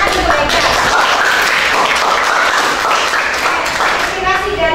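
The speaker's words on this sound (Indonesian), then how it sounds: "tepuk tangan untuk Haidar" A classroom of students claps for a classmate, a brief burst of lively, uneven applause with children's voices chattering through it.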